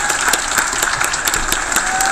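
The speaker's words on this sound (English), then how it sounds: "All we can do is give a round of applause." A crowd at a Clash of Clans world championship applauding with dense, steady clapping that fills the space, a few voices mixed in under the noise.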